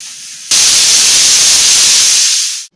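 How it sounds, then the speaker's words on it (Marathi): A pressure cooker vents steam while cooking Gujarati-style undhiyu vegetables, letting out one loud, sustained hissing whistle that starts abruptly, holds for about two seconds and then fades out. "आता आपण कुकर लावून घेऊ आणि कुकरच्या फक्त 2 शिट्या करून घ्यायच्या आहेत"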